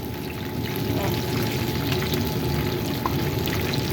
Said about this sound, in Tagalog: Nagpriprito pa lang.